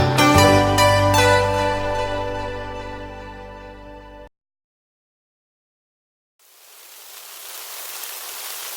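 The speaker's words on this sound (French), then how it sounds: "Oh, il pleut!" After music stops and a moment of silence, steady rain begins, a soft even hiss of falling drops that continues to the end.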